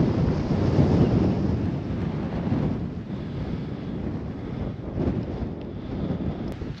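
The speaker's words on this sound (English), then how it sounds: "Quite windy this afternoon." Wind gusts buffet the microphone on a coastal island trail, a loud roaring rumble that swells and eases over several seconds, with a faint wash like distant surf beneath it.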